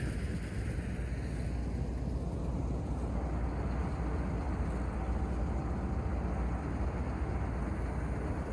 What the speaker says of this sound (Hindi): और ये उनका ट्रैक्टर।